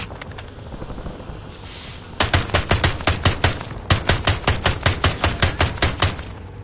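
Rapid automatic gunfire in Call of Duty Warzone: after a quieter stretch, two loud, close bursts of evenly spaced shots crack out in a steady rhythm.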